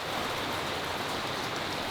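Heavy rain pours down at a narrowboat harbor, a dense, even hiss of drops hitting surfaces, loud and close with no pauses.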